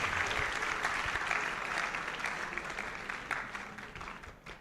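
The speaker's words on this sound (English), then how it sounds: "Clap for yourself." Audience applause at a motivational talk, a room of people clapping briskly at first and then gradually thinning and fading toward the end.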